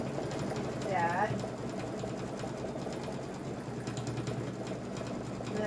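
A sewing machine hums and whirs steadily while stitching small fabric pieces together for a Kimberbell Pumpkins & Potions project, with a voice talking over it.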